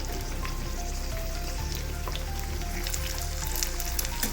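Mirchi bajji, battered green chillies, frying in hot oil with a steady, close crackling sizzle that runs unbroken throughout, like light rain on a hard surface.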